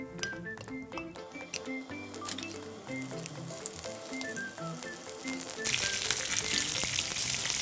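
Hong Kong-style oyster pancakes fry loudly in oil over high heat, a steady close sizzle with light clinks of a utensil, swelling into a dense crackling hiss near the end.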